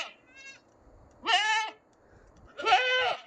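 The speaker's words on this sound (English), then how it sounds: "We have very noisy goats." Kiko goats in a barn courtyard: a short faint bleat, then two loud, wavering bleats spaced about a second and a half apart, with quiet gaps between them.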